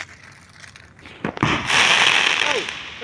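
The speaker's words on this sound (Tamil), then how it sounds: "அந்த வெடி வெடிக்க போகுது." A firecracker bursts during a Diwali celebration, a sharp crack followed by a loud, sustained fizzing crackle that fills the rest of the moment, with faint voices in the background.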